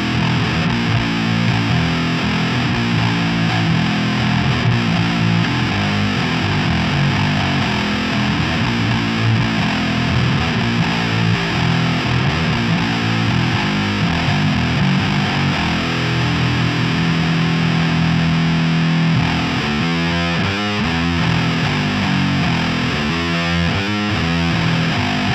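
Distorted electric bass guitar playing heavy riffs, a loud, continuous, gritty tone throughout with chugging rhythmic figures and no voices.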